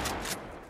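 A quick pair of loud, sharp gunshots during a horde fight in The Last of Us PC remaster, the second shot following about a quarter second after the first, each trailing off into a short echo.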